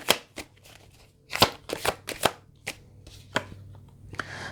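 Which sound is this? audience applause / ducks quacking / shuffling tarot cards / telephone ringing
shuffling tarot cards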